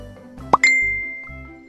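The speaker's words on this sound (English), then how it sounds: "Karthik's phone buzzes with a message from Priya." A phone message notification chime in an animated family comedy: a short plop followed by a bright, ringing ding that decays slowly, alone over a soft background bed.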